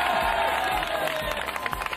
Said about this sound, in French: Allez, applaudissez-le bien.